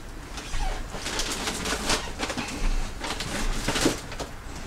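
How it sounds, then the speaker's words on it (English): Pigeons or doves coo outdoors on a patio before rain, soft repeated calls heard at moderate distance over a steady hiss of ambient noise. "Hear the birds? Birds are running for shelter."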